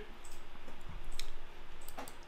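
A computer mouse clicks a few times, spaced apart, while the pen tool draws in Adobe Dimension. The clicks are close and crisp over a low steady background hum.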